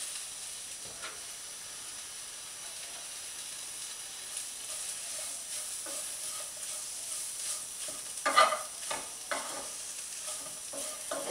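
Cabbage fries in a pan with a steady background sizzle, while a spoon stirs and scrapes through it in scattered strokes that grow briefly louder near the end.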